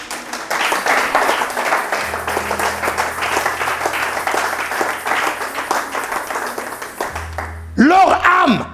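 Church congregation at a Pentecost service clapping and cheering for the Lord, a dense sustained wash of applause and crowd voices, with a voice rising loud over it near the end.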